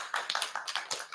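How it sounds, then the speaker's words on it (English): Scattered clapping from a small school assembly audience honouring a most improved player, a thin, uneven patter of individual claps close by, no voices over it. "let's give them a round of applause"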